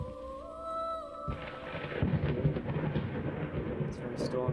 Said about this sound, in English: It's very stormy.